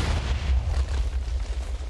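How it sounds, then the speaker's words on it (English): A medium-sized explosion from a modded Minecraft explosive beside a frozen river, a loud booming blast with deep rumbling low end that rolls on without any talk over it. "This is considered a medium-sized explosion."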